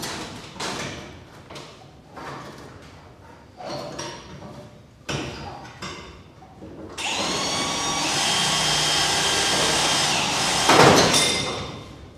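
Several knocks and clatters, then a steady high-pitched whine as a hole saw drills into a washing machine for several seconds, with a sharp surge near the end.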